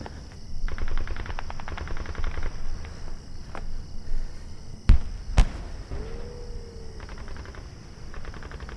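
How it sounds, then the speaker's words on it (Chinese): Sparse, distant gunfire from a war film set during the anti-Japanese war, with two sharp, isolated shots cracking over a low, noisy background rumble. "可枪声越来越细了呀"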